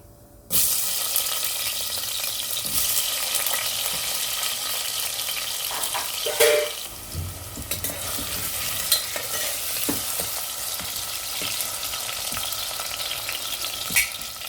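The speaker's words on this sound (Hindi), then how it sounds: "जीरे को हल्का सा फ्राई करेंगे। अब इसमें आलू डाल देंगे।" Potatoes added to cumin in a pan with a spoonful of hot oil set off a loud, sudden sizzle that holds as a steady hiss, broken by occasional stirring scrapes.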